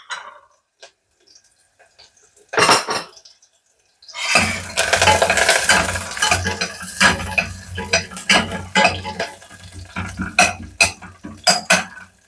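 Onion, garlic, dried red chillies and curry leaves are tossed into hot oil in a pan, with a few clinks and a brief hiss before a sudden loud sizzle that keeps crackling, broken by spoon scrapes against the pan.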